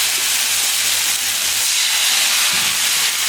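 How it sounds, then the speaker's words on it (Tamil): Ragi rava dosa batter poured onto a hot pan gives a steady, broad sizzling hiss that holds evenly throughout, with no voices. "அது யூஸ்வல் எப்படி நம்ம ரவா தோசை ஊற்றோமோ அதே மாதிரி ஊற்றிக்கணும்."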